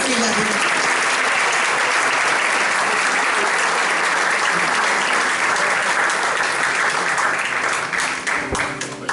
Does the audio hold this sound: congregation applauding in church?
yes